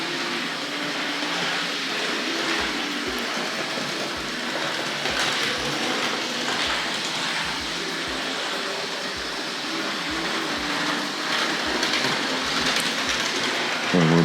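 A Hornby model train runs around a home layout, its wheels ticking over rail joints in an irregular clickety-clack beneath a steady, close rolling hiss, with no talking.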